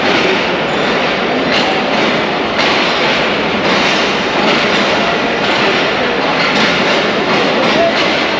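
An express train pulls slowly out of platform 4 at Lahore Junction railway station, a steady, loud rolling rumble and clatter of wheels on track continuing without pause throughout.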